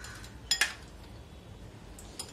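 A spoon clinks against a bowl while spiced yogurt raita with ground roasted cumin is stirred, giving two quick metallic taps close together followed by a fainter clink, over quiet room tone.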